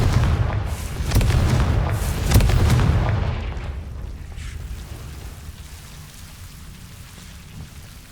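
Spell explosions from the video game Hogwarts Legacy, including the Confringo blast, land as heavy booming impacts with crackling debris in the first few seconds, then fade into a quieter rumbling game ambience.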